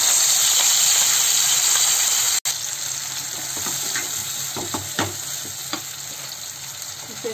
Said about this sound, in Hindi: दो तीन मिनट भून लेंगे